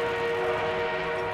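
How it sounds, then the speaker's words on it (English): A train in the video game Battlefield 1 sounds a steady, sustained horn-like tone over continuous rolling rail noise, loud and close, with no talk. "Oh god, there's a train."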